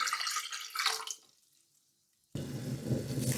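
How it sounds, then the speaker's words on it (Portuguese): Water runs and splashes into a cooking pot for about a second, then a pause, followed by a steady rushing of water filling it. "Bastante água na panela."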